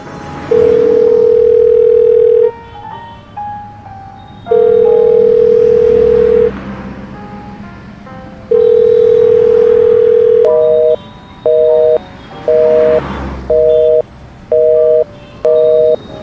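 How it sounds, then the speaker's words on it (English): A telephone busy signal: a steady tone drones in long repeated bursts, then gives way to a rapid series of short, evenly spaced beeps, loud and clear on the line. "The line is busy."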